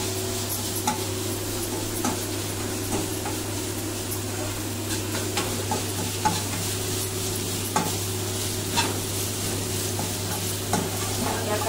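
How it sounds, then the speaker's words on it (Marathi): Chicken fried rice sizzles steadily in a pan over a high gas flame, with a spatula scraping and tapping at regular intervals over a constant low hum. "तर फास्ट गॅसवरच हे 2-4 मिनिटं आपल्याला शिजवायचं आहे।"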